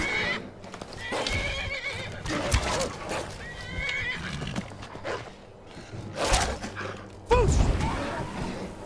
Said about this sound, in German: Oh, super, ich habe mein Pferd getroffen.